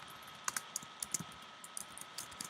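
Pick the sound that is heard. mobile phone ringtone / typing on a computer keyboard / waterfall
typing on a computer keyboard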